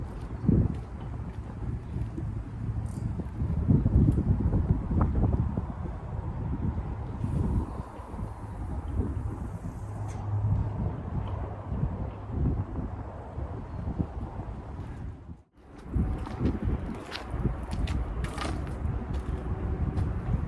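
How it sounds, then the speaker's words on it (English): Wind gusts across an outdoor carp fishing spot, a steady low rumble with microphone buffeting that swells and eases throughout, with one brief dip near the end. "right on cue, wind's blowing"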